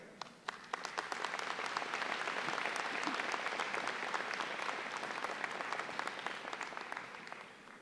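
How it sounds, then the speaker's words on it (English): Sustained applause from the audience at a Macomb Community College commencement ceremony, dense steady clapping from a large crowd lasting several seconds at an even level. "Please join me in applause and appreciation of their dedication and support."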